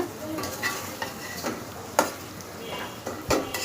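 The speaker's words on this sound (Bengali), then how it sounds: "এখন আমি মশলাটাকে 2 মিনিট কষাবো" Ground dried chilli, turmeric and cumin with salt frying in oil, a soft continuous sizzle under repeated stirring scrapes and a few sharp utensil taps on the pan.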